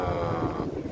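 Strong wind of about 20 knots rises in a sailing harbour, a loud, continuous roaring rush buffeting close to the microphone.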